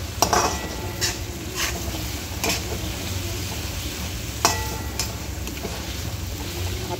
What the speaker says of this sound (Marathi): इथे गाजर, शिमला मिरची आणि पत्ताकोबी टाकून द्यायची आहे आणि छान परतून घ्यायचं याला